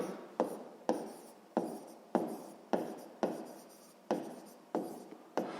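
A pen writing on paper for a sixth-grade math exercise, a steady series of close scratchy strokes, each starting with a sharp onset and fading, repeating roughly every half second with no talk.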